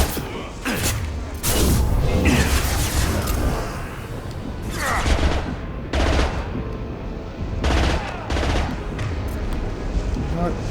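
Rapid bursts of submachine-gun fire in the video game Mass Effect 2 crackle repeatedly at close range, mixed with dense combat sound effects and clanking mechanisms.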